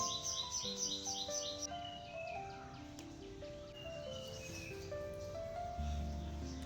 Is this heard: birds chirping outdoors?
yes